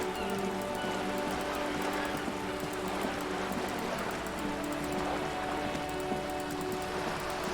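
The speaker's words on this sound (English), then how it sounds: "I hear rain, but everything seems relatively calm at the moment." Steady rain ambience in the video game Disco Elysium, a constant hiss of drops on surfaces with faint tonal background music, calm and even throughout without talk.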